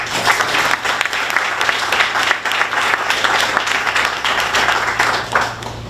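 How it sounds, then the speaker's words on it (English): At the 2023 HistoryMaker Awards in Boston, an indoor audience claps steadily for about six seconds. The dense, even applause stays close and loud before tapering slightly at the end. "so let's give them a round of applause."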